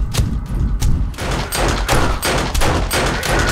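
Heavy gunfire rings out in a video game zombie fight, with repeated loud shots and bursts arriving in quick, uneven succession and no pause between them.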